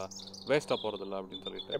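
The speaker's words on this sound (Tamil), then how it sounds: "பின்னாடி ஒரு பேர்டு சத்தம் கேட்குது" Bird calls chirp in the background outdoors on a spring day among flowers, faint and intermittent beneath someone speaking in the foreground.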